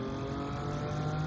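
A race car engine in Gran Turismo 7 holds a steady, droning high-revving tone under throttle, loud and continuous through the short moment with no voices.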